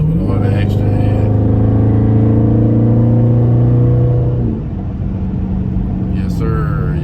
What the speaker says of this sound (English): It is really responding to the throttle, and the sound sounds really good with all the extra air.